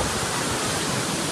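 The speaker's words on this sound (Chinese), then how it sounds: "这大量的水从上面倾泻而下" Torrent of water from a hundred-metre waterfall at Yuntai Mountain roars in a steady, loud, dense broadband rush, close up with no break.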